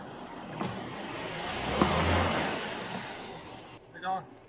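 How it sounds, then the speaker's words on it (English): A police car rolls up nearby with a broad, swelling road and engine rumble that builds and fades over a few seconds, ending with a brief voice. "I'm gonna pull my car up so that the husband will be able to get in."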